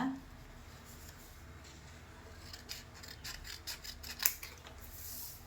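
Scissors snip and rub through blouse fabric during tailoring pattern cutting, a series of soft rasping cuts at close range with one sharper snip near the end, no voices.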